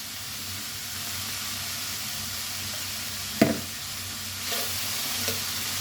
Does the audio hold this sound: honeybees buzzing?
no